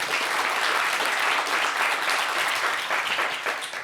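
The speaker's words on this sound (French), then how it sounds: "on applaudit pour ça" A studio audience on a French afrobeat music talk show claps in a dense, steady roar that stays loud and even throughout, easing slightly at the close.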